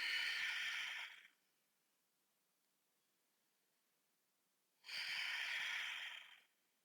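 Two strong breaths during a yoga workout, each a loud, airy rush lasting about a second, with a long quiet pause between them, close to the microphone.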